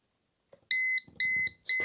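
A Yunbaoit countdown timer's alarm sounding three loud, high electronic beeps in quick succession, close and alone.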